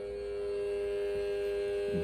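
A Kind Pen vaporizer heats with a Gags cup attached, giving off a steady, even electrical hum that holds unchanged from start to finish, up close and with no other sounds.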